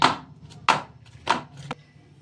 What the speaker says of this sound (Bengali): এটা এরম করে একটু ঠুকে নিচে যাতে না ভিতরে কোনো বাবলস থাকে